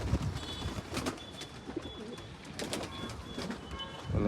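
Pigeons kept in a loft coo and stir nearby, soft repeated calls and brief rustles over a quiet background, with some faint scattered clicks.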